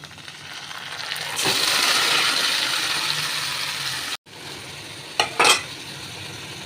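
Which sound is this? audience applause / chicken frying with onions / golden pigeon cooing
chicken frying with onions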